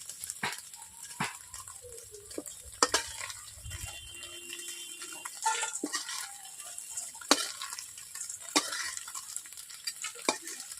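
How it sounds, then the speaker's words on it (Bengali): Paneer cubes frying in a pan for a dhaba-style paneer curry, a steady low sizzle broken by repeated sharp clinks and scrapes of a utensil stirring, with no talking. "পাঁচ মিনিট এইভাবে আপনারা পনিরগুলোকে ভেজে নেবেন।"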